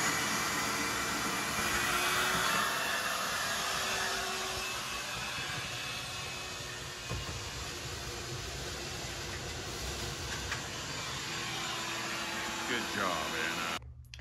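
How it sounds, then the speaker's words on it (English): Wet and dry vac drawing salt water out of a water softener brine tank, a continuous loud whine and suction roar lasting throughout, with the motor cutting off at the end. "we went ahead and removed the salt and the water from the brine tank with a wet and dry vac"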